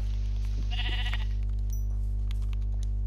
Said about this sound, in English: Is that another sheep? I smell another sheep. Another sheep it is!